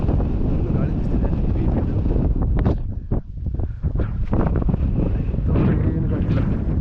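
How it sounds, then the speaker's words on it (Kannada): Wind gusts across the hilltop of Meruti Gudda in Chikmagalur, roaring against the microphone in a loud, continuous buffeting, with a voice speaking through the middle. "ಗಾಳಿ ಬಿಸ್ತಿದೆ"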